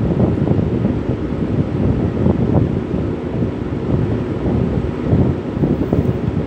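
A DIY shop air filter fan runs at medium speed, giving off a steady, loud, broadband whoosh of moving air with a low rumble underneath that holds constant throughout.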